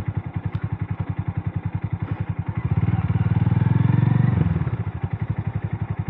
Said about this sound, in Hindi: और बेसी साउंड है बाइक का।